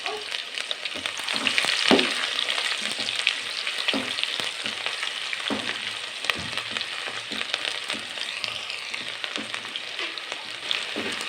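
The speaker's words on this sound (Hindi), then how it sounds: "तो प्याज नाज़रीन इसको डालेंगे और इसको हमने लाइट ब्राउन करना है।" Finely chopped onions frying in ghee for keema, a continuous close sizzle broken by repeated stirring scrapes and knocks throughout, with no voices.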